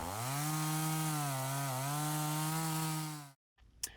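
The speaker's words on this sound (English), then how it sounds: "huge roots that we had to cut through with the chainsaw" A chainsaw cuts through huge tree roots while outdoor garden stairs are being built. It makes a loud, close, steady buzzing drone for a little over three seconds, then stops abruptly, leaving near silence and a faint knock.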